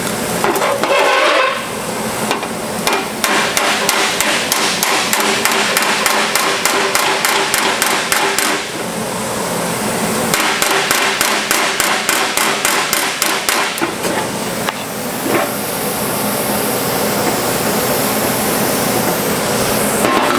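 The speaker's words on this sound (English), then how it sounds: "I'm going to tap that from the backside with a regular hammer. Hammer off dolly again." Sheet metal on a rusty car patch panel is hammered against a dolly, giving rapid, loud, metallic taps that run almost continuously in bursts with brief pauses, ringing and clanging close by.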